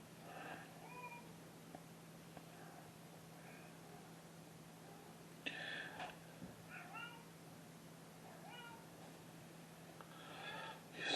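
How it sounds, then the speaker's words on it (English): A cat meows repeatedly near a construction site, its short rising cries scattered over a faint steady hum, with a few louder calls in the middle and near the end. "Stupid cat's going to be up my tail."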